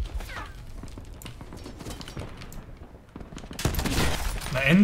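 Gunfire in the shooter game Black Ops 4, scattered sharp shots and mechanical clicks at moderate level, building to a louder burst of firing near the end.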